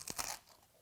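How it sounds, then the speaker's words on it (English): A single sharp, close crunch as someone bites into a crispy smashed baby potato, followed by a brief, softer chewing crackle that quickly fades. "Can you hear that crunch?"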